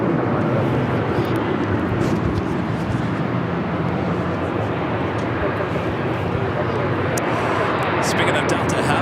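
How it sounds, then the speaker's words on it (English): A Boeing 767-300ER touches down at LAX on arrival from JFK, giving a loud, steady broadband roar of engines and rushing air that runs through the whole stretch. "It's a 767 at 300 ER, just touching down here, coming in from JFK"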